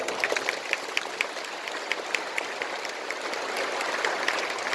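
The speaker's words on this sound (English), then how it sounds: "Can we give a big round of applause for them?" An audience applauds at a state-level award function for a reading festival in a convention hall, a steady, moderately dense round of clapping with a few sharper, closer claps standing out.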